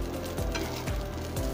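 Soya chunks fry in a pan for a veg momo filling, giving a steady, close sizzle with several soft scraping stirs at regular intervals and no voices.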